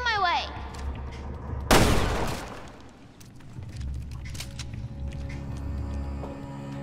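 A loud burst of gunfire in Resident Evil Revelations 2 hits near the start, then settles into a rumbling factory ambience with scattered smaller impacts and mechanical hum.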